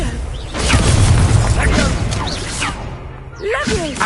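A Confringo explosive spell goes off in Hogwarts Legacy as a deep booming blast that swells and fades, followed by a shorter burst near the end, with a player talking loudly over the game sounds.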